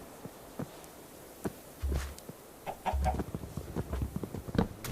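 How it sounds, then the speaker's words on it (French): Chickens in a blocky Minecraft-style survival game give short, soft clucks scattered through quiet ambient sound, a few brief calls in a loose irregular rhythm, moderately close but not loud. "Une deuxième poule."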